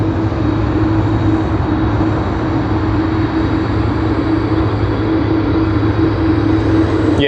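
A Qantas airliner on the Brisbane service at Sydney Airport gives a loud, steady jet engine roar with a constant low drone that fills the whole stretch.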